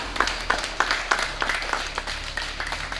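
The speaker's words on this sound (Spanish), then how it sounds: "Que se escuche fuerte el aplauso para los niños de cuarto grado" A group claps for fourth-grade children at a primary school flag ceremony, steady overlapping applause with distinct sharp claps sustained throughout, moderately loud and close.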